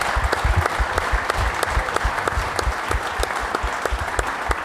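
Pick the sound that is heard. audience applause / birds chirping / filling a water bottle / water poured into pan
audience applause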